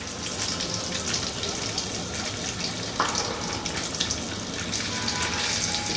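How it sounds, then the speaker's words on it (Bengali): Homemade paneer fries in oil with a steady sizzle and broadband hiss, a bit watery-sounding, continuing throughout with a brief clink partway through. "দেখ সুন্দর করে বাদামি হয়ে ভাজা হয়ে যাচ্ছে"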